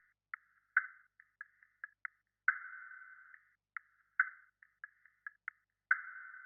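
A second percussion loop, quiet and sparse, plays alone as short pitched tonal blips and a few longer sustained tones, spaced in an uneven repeating rhythm.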